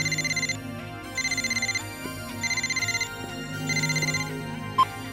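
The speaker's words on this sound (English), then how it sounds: "When I call, you pick up in 2 rings." A telephone rings in the video game Phantasy Star Online 2, sounding four evenly spaced electronic ring bursts over a low background music bed, with no talking.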